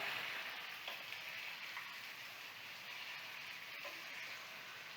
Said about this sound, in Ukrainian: До цибулі додайте моркву та корінь петрушки, перемішайте і продовжіть обсмажувати.